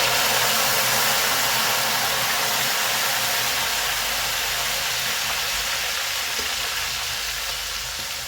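Banana chips frying in hot oil as salt water is poured in, giving a loud, steady, hissing sizzle that stays even from start to end with no voices.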